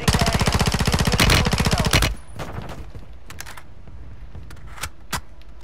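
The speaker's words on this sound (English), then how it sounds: "Someone's shooting." Rapid automatic gunfire from a first-person shooter video game, a dense burst of evenly spaced shots for about two seconds, then quieter scattered pops and game sounds.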